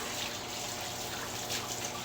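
Water runs steadily while halibut is being washed, a continuous close hiss and trickle with small splashes.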